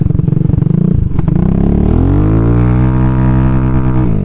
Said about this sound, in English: my RPMs are going into the red way too fast